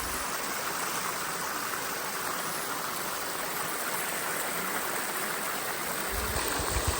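A waterfall pouring over two rocks gives a steady, dense rushing roar of falling water that stays even and fairly close throughout.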